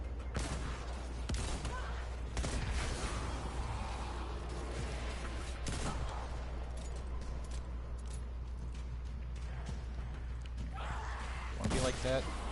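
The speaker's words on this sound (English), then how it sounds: "Just so many explosions." Rapid chain of explosions from the Dragonfly perk in Destiny 2 Forsaken, a video game, with sharp blasts and gunfire-like bursts repeating across the clip over constant loud game noise, with talking over them.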